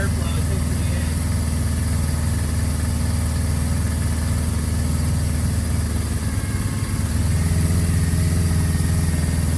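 A 1981 Suzuki GS550 motorcycle engine idles steadily with a low, even chug that shifts slightly in pitch near the end.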